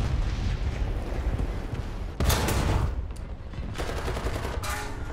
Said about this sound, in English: I heard a tank shell.